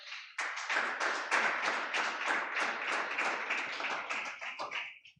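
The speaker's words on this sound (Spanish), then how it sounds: "Dele un aplauso al Señor, por favor." A church congregation bursts into sustained applause, many hands clapping together in a dense, lively roar that holds steady for several seconds before tapering off abruptly.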